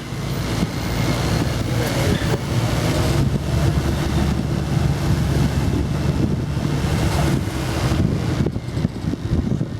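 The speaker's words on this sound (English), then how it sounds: "it gets very windy out here by the ocean" Strong, steady ocean wind in Key West, Florida roars and buffets the microphone, with a low rush like surf underneath, continuous and close for the whole stretch.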